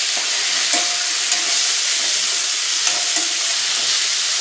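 Mint and tomato hitting browned onions in hot oil for an eggplant dum biryani, giving a steady close sizzle with occasional light stirring scrapes throughout.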